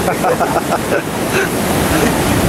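Continuous roar of large ocean waves washing onto a beach at Visakhapatnam, mixed with wind buffeting the microphone, loud and close throughout.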